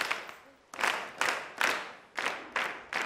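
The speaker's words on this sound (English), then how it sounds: "Clap for her." A classroom of pupils claps in short bursts of applause, roughly six loud waves at an uneven rhythm, fairly close with a little room echo.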